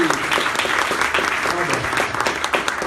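Loud, steady clapping from a church congregation after a baptism fills the space, with scattered voices rising above the applause.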